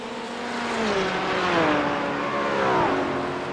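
A McLaren race car in a sim racing game at Okayama sends out a loud, continuous engine whine that rises and falls through the gear changes as it rounds a corner, with no other sound over it.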